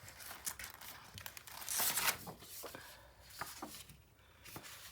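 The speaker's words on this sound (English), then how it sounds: "It's a base I'm cutting for the next page" Paper for a mini album page being cut and handled up close, rustling and crinkling with a louder tearing burst in the middle, no talking.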